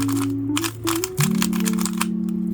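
A Jperm RS3M 2020 speedcube being turned quickly, a rapid series of crisp plastic clicks and clacks close up, with a faint tonal hum in the background.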